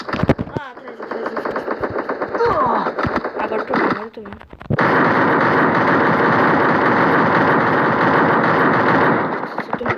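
Rapid gunfire in the Free Fire battle royale video game, loud bursts of shots running nearly continuously through the second half, with a voice talking over the earlier part.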